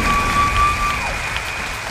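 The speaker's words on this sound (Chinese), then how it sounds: "掌声鼓励来一下。" A television studio audience in a Chinese puzzle-solving show applauds in a short, steady burst of clapping. The clapping holds at an even, moderate level and carries a faint sustained tone over it.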